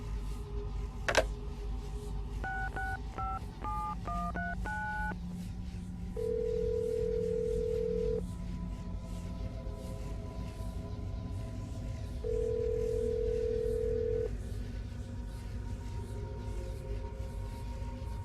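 In Assassin's Creed Brotherhood, a phone is dialed with a quick run of keypad tones over a low hum, followed by two long, steady ringback tones separated by a pause.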